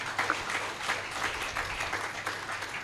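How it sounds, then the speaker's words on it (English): Audience applause for panelists at the close of a trade panel discussion, a faint, steady patter of clapping from a modest crowd, distant and even throughout. "Please give us a round of applause."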